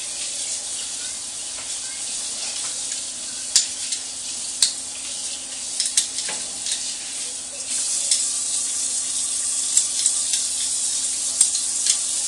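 Garlic hits a hot pan for Brazilian stroganoff, making a steady close sizzling hiss with scattered small pops and clicks throughout.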